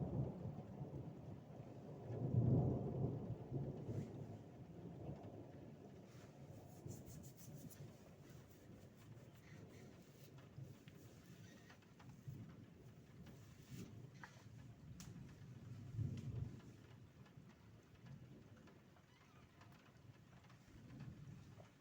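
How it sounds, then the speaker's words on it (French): Thunder from a nearby lightning strike during a storm with strong wind gusts, a heavy low rumble swelling early and rolling on, then a second rumble later, over steady rain and wind noise. "c'était un impact de foudre"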